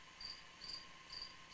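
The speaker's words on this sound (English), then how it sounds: "Do you hear the cricket?" Cricket chirping indoors, faint and fairly distant, repeating in evenly spaced high pulsing bursts about every half second over quiet room tone.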